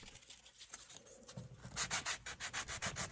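Rhythmic sanding strokes on cut gourd pieces, quiet at first then louder, repeated back-and-forth rasping of abrasive on the hard gourd surface, close by.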